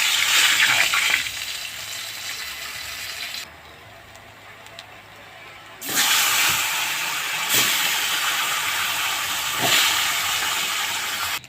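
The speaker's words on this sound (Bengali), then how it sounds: "আমি এইভাবেই মাছগুলো এক এক করে ভেজে নেব" Pomfret fish frying in hot oil in a pan, a steady loud sizzle and hiss that drops away for a couple of seconds midway, then returns strongly with a few sharp crackles.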